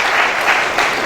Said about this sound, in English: let's warmly welcome her again with a round of applause